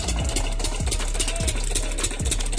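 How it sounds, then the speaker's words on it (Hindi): An old diesel pumping-set engine runs steadily while irrigating a field outdoors, a loud continuous chugging drone with regular knocking pulses and no speech. "इंजन चल रहा है"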